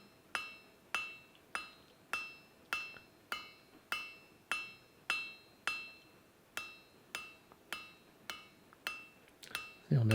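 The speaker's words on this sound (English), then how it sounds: "So here I am forging it to a square section." Hammer forging the bar for Viking blacksmith tongs to a square section: about fifteen evenly spaced ringing metallic blows on the anvil, moderately close, with nobody talking.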